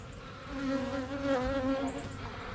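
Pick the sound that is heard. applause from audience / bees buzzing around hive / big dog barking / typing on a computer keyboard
bees buzzing around hive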